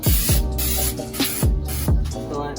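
Repeated hissing bursts of an aerosol spray can painting a Nissan Z32's front brake calipers, close and loud, in short pulses with brief breaks between them.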